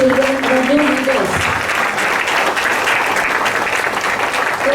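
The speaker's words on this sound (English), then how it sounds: "Let's have a big round of applause for our children, our new leaders." An audience at a school investiture ceremony claps loudly for the children, a thick continuous wash of applause, with voices and cheering audible at the start and again at the end.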